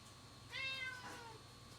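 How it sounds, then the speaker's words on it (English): Frankenstein, a hungry pet cat, lets out a single clear meow at close range, a rising then falling cry lasting under a second against a quiet indoor room. "It's my cat Frankenstein."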